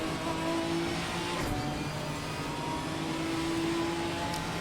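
A GT4 race car at Brands Hatch brakes and gets back on the throttle, its engine note droning steadily with shifting tones as it blends between braking and accelerating, heard continuously at moderate distance.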